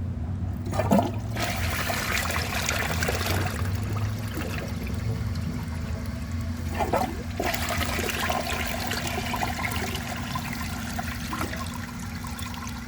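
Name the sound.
Vortens Vienna toilet flushing a dish towel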